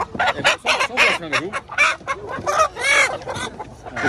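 Chickens cluck and squawk loudly and close by at an open-air poultry market in Palmeira dos Índios, a busy run of sharp, repeated calls with a brief crowing note mixed in.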